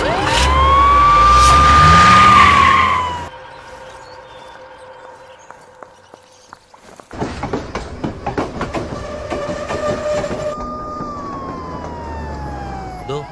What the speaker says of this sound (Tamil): பாசஞ்சர் ட்ரெயின் வந்துருச்சு.